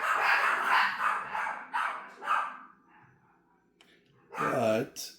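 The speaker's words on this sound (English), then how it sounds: "Sorry about the dogs barking." Dogs barking indoors, a few sharp barks and yips in short bursts, with someone talking over and between them.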